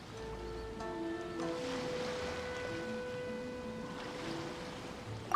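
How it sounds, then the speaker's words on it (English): Ocean waves wash steadily at a harbor in the video game Genshin Impact, a soft continuous surf under faint melodic game music, with no voices. "Oh, and the sound of the waves."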